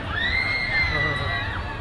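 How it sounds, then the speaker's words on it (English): A youthful crowd shouts and cheers outside at a school closing event, a steady far-off roar of many young voices with shrill calls rising over it, heard continuously throughout. "To the youthful crowd who are still shouting from their side out there"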